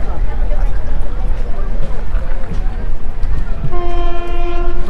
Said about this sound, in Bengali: 2 মিনিট দাঁড়িয়ে ট্রেন আবার ডিপার্চার করলো।